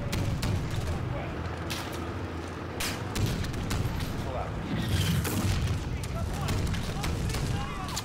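A tank's main cannon in Call of Duty: Modern Warfare (2019) fires amid a dense wash of battle noise, with several heavy booms rising out of a constant loud rumble.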